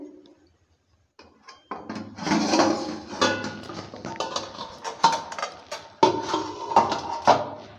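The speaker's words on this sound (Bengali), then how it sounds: "এবার ঢাকনাটা তুলে নিচ্ছে।" A metal lid lifted off a pot after a cake has baked in it over low-medium heat; a short knock, then a run of clattering metal clinks and scrapes, close and fairly loud, with no talking.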